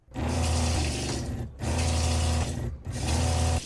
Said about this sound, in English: they sense whenever you turn something on like a sink, and they just start pumping